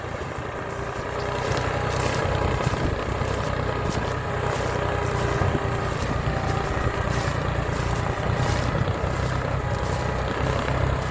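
A New Holland TT3.50 tractor fitted with a six-disc plough runs at high revs, around 1500 to 1600 rpm, giving a loud, steady engine drone with wind buffeting throughout.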